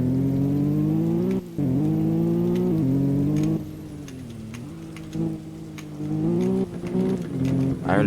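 A Maserati MC20 on race tires launching hard in a racing video game: a loud engine roar climbs in pitch, drops briefly at quick gear shifts, then keeps pulling steadily as the car accelerates away.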